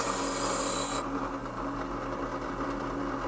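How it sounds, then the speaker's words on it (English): A wire wheel on a drill press scrubs rust off an antique adjustable wrench, a steady loud abrasive rasp with a harsh high hiss at the start that drops away after a second, leaving a continuous grinding whir. "We're just gonna see if we can get her cleaned up pretty good with this wire wheel"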